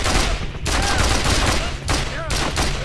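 Rapid bursts of .50 caliber machine gun fire in the Mercenaries 2: World in Flames video game, loud and close, with brief gaps between volleys and battle noise.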